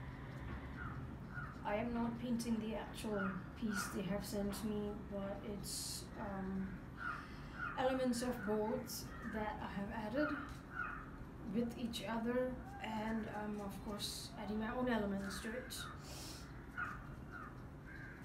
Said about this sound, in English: You can hear the sound of the birds from outside